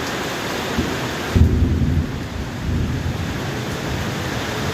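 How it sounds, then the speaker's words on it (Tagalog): Steady heavy rain in a thunderstorm, with a deep rumble of thunder swelling near the middle and rolling off under the constant downpour, rain soaking birds kept outdoors. "Ulan, kulog."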